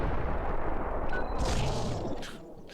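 Rogue's special explosion move in X-Men: Mutant Academy 2, a rumbling, noisy blast that rolls on with crackling bursts and hissy flares before tapering off, fairly loud and alone.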